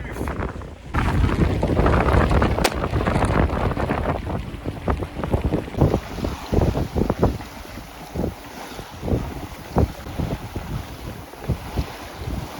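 Force 5 wind roars and buffets the microphone aboard a sailboat in Croatia's Kornati Islands during a Bora, with heavy gusting rumble at first, then choppy bursts and splashes of water against the hull.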